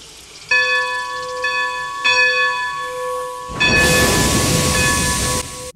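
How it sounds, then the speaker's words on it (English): A steam train in a video game chugs into motion, its bell clanging in steady repeated strokes before a loud, hissing rush of steam takes over and then cuts off. "These trains take a while to accelerate, to pick up steam, literally."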